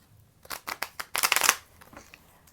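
Tarot cards are shuffled in a quick burst of crisp riffling snaps, several sharp flutters building to a dense run before fading into soft, faint handling.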